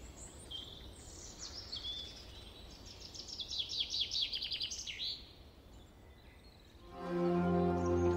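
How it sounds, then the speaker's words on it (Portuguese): A bird chirps in a quick run of bright calls as it flies off, the calls growing busier in the middle and then fading, followed by a low steady tone over a faint background hiss. "O pássaro saiu voando"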